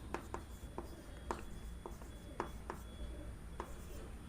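Writing on a classroom board during a geometry lesson on lines and angles, a run of quick tapping and scratching strokes in irregular bursts, close and steady over a background hiss.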